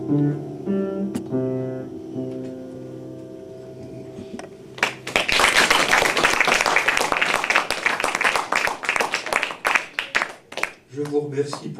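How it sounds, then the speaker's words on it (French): An audience applauds a French singer's performance: about five seconds of sung, tonal music give way to loud, dense clapping that holds for roughly six seconds before thinning out near the end. "Je vous remercie pour vos applaudissements."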